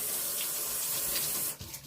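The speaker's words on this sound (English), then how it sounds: "run it under cold water" A kitchen tap runs cold water over a kitchen rag, a steady close splashing hiss that cuts off abruptly near the end, leaving faint dripping.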